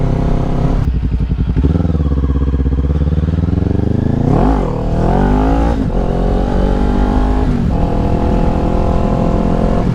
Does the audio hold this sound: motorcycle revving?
yes